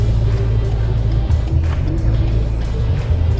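A Ford car drives along with a steady low engine drone and road rumble, heard from inside at an even level and without talk.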